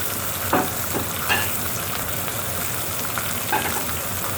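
A steak pan fries with a steady, close sizzle, a few brief scraping or spattering bursts rising over the constant hiss and no voices.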